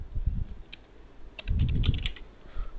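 Keys on a computer keyboard are typed in two short bursts of quick clicks separated by a pause while PHP code is entered, close and clear with no talking.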